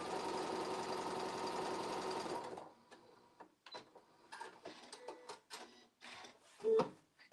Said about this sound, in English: you're just gonna sew with a 1/4 inch seam